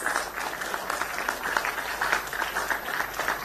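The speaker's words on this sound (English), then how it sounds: "A big round of applause" Audience applause at an MBBS orientation program in Georgia, a steady wash of many hands clapping at moderate level in a hall, continuous for several seconds with no talk over it.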